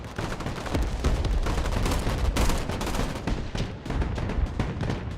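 Dense, continuous gunfire and explosions in the Broken Arrow war game: loud overlapping shots and booms pile into a steady roar with no let-up.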